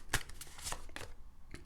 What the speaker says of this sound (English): my gorgeous Leonie, I'm just going to shuffle these oracle cards